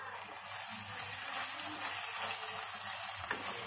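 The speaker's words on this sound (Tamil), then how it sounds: "நல்லா வதக்கிக்கலாம்" Chopped onion and tomato sauté in a pan for kathirikkai kulambu, a faint steady sizzle and hiss with soft stirring scrapes.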